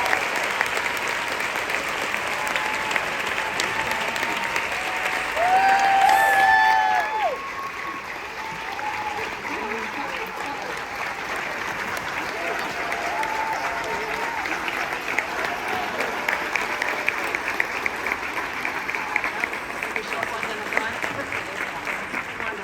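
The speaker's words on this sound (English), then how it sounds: "Can we give them another round of applause?" Sustained audience applause with cheers at a special screening of a WNBA 30 for 30 documentary at Hulu Theater, Madison Square Garden, a broad crowd roar with a few whistles, talk mixed in.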